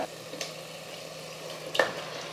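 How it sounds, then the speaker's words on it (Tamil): Chicken marinated for an hour goes into sizzling masala for Hyderabad-style donne biryani, a brief stir and a louder splash of hiss rising over a steady, quiet frying sound. "இப்போ வந்து சிக்கன் சேர்த்துக்கிறேன்"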